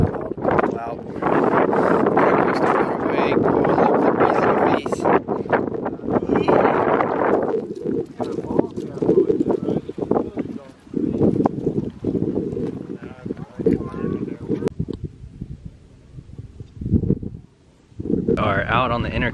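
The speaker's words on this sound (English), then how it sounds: "A little windy, but beautiful, super breezy, nice sunny day." Strong wind buffets the microphone outdoors on the intracoastal waterway, coming in loud rough gusts that rise and drop, with people talking underneath.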